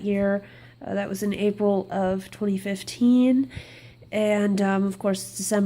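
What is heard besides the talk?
No distinct noise like a dog, phone or traffic.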